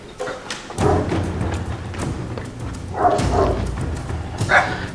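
An aggressive dog lunges and barks nearby, with loud heavy barks and thumps in several bursts over a dull room rumble.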